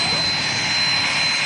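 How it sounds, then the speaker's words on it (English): Beechcraft 400 business jet arriving at Manchester Airport, a steady, loud engine roar and hiss holding evenly throughout a brief moment. "this BizJet's in from Ancona"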